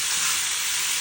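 A blended beef patty fries in a pan with a loud, steady sizzle of hot fat. The hiss is close and continuous for about a second, with no voices over it.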